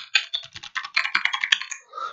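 Keys clatter on a clicky Redragon gaming keyboard in a quick, uneven burst of sharp close presses, with one louder clack near the end, no talking.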